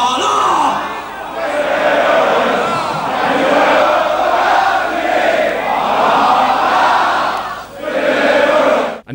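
A large metal concert crowd chanting a singalong in 1992, a massive roaring chorus rising and falling in long swells, loud and close, dipping briefly near the end before surging again.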